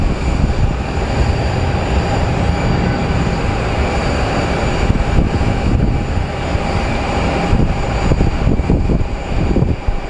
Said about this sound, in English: So that is our flight that has declared the emergency.